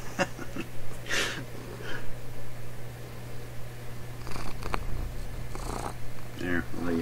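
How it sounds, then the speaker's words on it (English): A female cat purrs close by, a low steady rumble running under intermittent speech and a few breathy, handled noises throughout. "There, I'll let you hear him purr."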